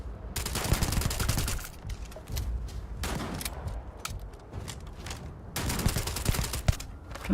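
Shotgun fire in a Starfield firefight, loud repeated blasts clustered in several bursts with short gaps between them, close and punchy, no talking.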